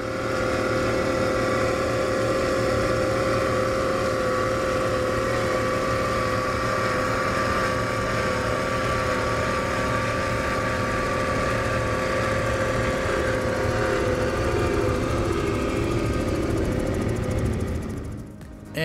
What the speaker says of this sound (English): I'm just going to let the boat do all the talking.